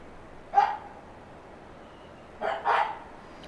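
A single dog bark, then a pause, followed by two quick barks close together, fairly loud against a quiet humming background.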